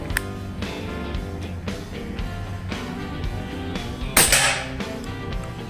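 Shots from a PCP air rifle set to its lowest power, several sharp snapping cracks at intervals under a steady background, with one louder, brighter report near the end.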